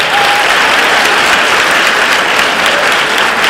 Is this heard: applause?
yes